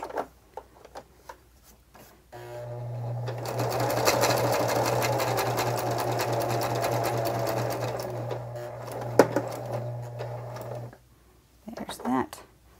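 A sewing machine stitches through a paper Christmas card in one steady, close whirring run of about eight seconds, with quiet handling sounds before it starts and after it stops.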